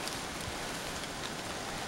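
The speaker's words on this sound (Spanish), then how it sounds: "está lloviendo" Rain falling steadily on a rural road on the way to a village, a dense continuous patter of drops hitting the surface, close and even throughout with no talking.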